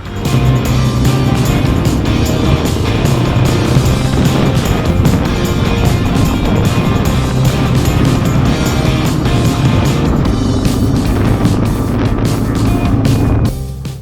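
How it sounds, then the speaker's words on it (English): Rally cars roar past in the Qatar desert with a loud, continuous engine drone that stays steady for most of the stretch before tailing off abruptly near the end. "The rally cars are coming past."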